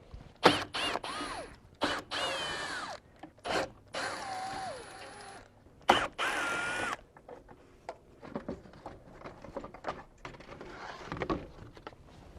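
Ratchet wrench spinning out the 10mm bolts on a Subaru Legacy EJ251 fan shroud, loud bursts of rapid clicking in the first half, then quieter scattered clicks and metallic handling.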